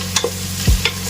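Four green chillies sauté in a pan for pulao, with a soft sizzle under brief scraping stir strokes and a low thud of the spoon, close and short.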